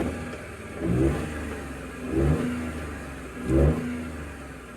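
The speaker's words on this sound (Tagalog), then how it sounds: "So patakbuhin natin dahil yung concern dito kumakadyot-kadyot yung engine at palyado talaga" A Suzuki DA64 engine runs rough with a misfire, a steady low idle broken by three evenly spaced stumbling surges about a second apart, close and without talk.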